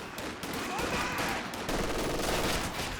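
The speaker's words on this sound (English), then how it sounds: "All these sight blockers making it hard for the machine gun to pick an angle to shoot from." Sustained machine gun fire during a Company of Heroes 2 battle, a dense, continuous rattle of automatic shots layered over steady battlefield noise throughout.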